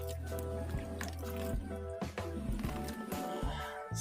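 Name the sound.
watering the planting medium for macadamia cuttings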